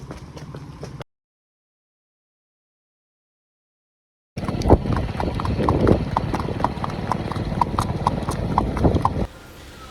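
A mare's hooves clip-clop as she is untied, a near, rapid run of hoof strikes on hard ground. It follows a short opening burst and a stretch of dead silence.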